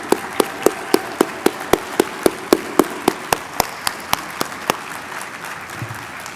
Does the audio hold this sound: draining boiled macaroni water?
no